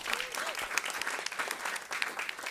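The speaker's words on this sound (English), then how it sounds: "Give them a round of applause." Audience applause at a breakfast event at WNYC, dense steady clapping from a crowd throughout, fairly close and lively, with a brief voice or cheer near the start.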